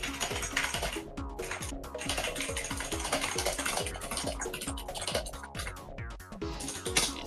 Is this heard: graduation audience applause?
no